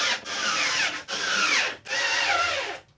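A power driver running bolts into speakers in a Marshall 4x12 guitar cabinet, three loud whirring bursts with brief stops between, close up and without talk.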